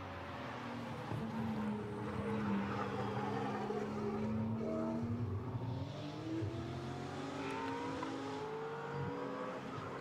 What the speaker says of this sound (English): that Brabham howls its way downhill